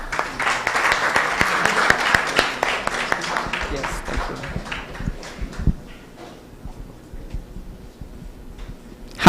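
Audience at an invention pitch event claps loudly for several seconds, the applause fading out while a presenter begins to talk.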